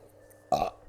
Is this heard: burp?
yes